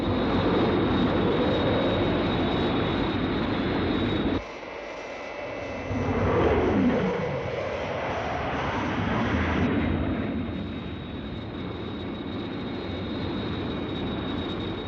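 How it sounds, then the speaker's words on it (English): A jet aircraft roars past in the 1967 puppet TV series Captain Scarlet and the Mysterons, a dense continuous engine rush with a sweeping shift midway and a steady roar afterward. "Have visual contact with Captain Scarlet's jet."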